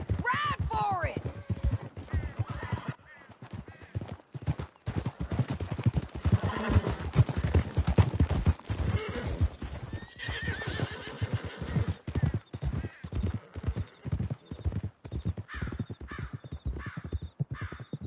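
Horses gallop hard through a canyon in Red Dead Redemption 2, rapid close hoofbeats pounding continuously with whinnies and neighs breaking through, while crows caw and voices speak over the ride.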